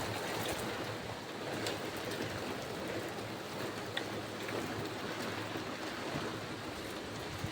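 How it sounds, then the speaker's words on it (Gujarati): Rain falls as a faint, continuous, even patter, a soft wash of noise with no voices. "ગાઈસ વરસાદ આવે છે"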